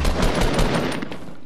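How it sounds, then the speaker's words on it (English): A grenade launcher fires in the Fortnite video game, a rapid series of loud, close thumping shots in quick succession, with no talk. "Got a grenade launcher. I'm gonna try and fire it."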